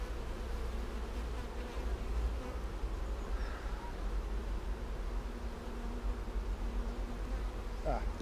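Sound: honeybees buzzing around an open hive

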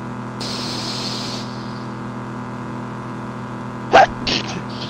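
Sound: sneeze

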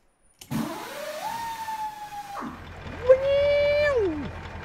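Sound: Peterbilt 379 truck Cat 3408E engine air start

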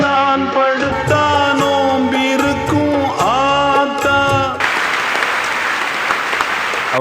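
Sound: audience applauding in a college hall

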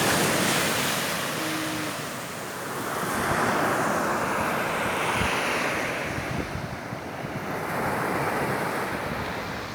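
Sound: ocean waves at the seaside

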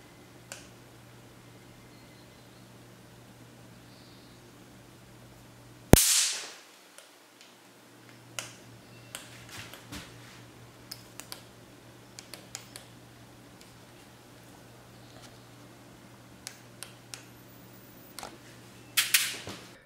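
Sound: Xiaomi electric insect zapper popping loudly as it kills insects

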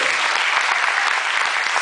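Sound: audience applause

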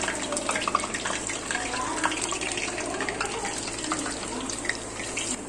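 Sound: naan pakoras frying in oil on medium flame

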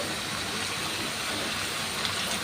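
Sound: onions frying in mustard oil

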